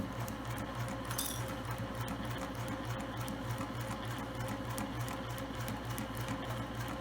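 A sewing machine back stitches a half-inch seam on a small travel shoe bag, its needle running in a steady, fast mechanical rhythm close by and fairly loud with no voices.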